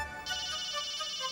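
An electronic telephone ringtone plays in a domestic scene from an Indian TV drama: a bright, steady electronic tone with pulsing repeats, close and clear.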